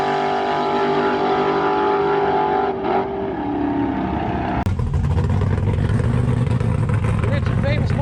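Drag race cars in a bracket race sit loud on the line, then launch with a sharp crack into a heavy, rising roar; a voice talks over the engines.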